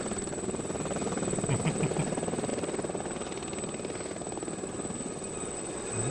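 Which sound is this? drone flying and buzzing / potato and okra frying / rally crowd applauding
drone flying and buzzing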